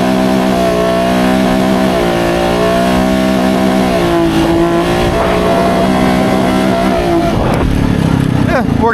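A Jeep Rubicon with a DCT gearbox revs hard as it accelerates, its engine note climbing steadily, dipping at a shift, then roaring up again, loud and close, with a voice speaking over it.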